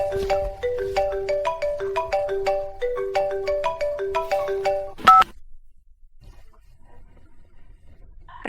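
A telephone ringtone plays as a repeating melodic electronic tune for about five seconds, loud and close, then cuts off to near silence.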